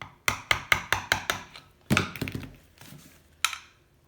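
Sharp hammer blows on a 1984 Honda C70 motorcycle part, a quick run of about eight close, ringing metallic strikes, then a few scattered heavier knocks after a short pause.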